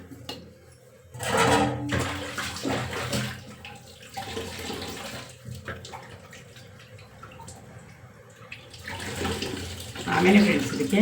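Water, one and a half cups, is poured into a cooking pot, giving splashy bursts of pouring near the start and again at the end with quieter handling sounds between.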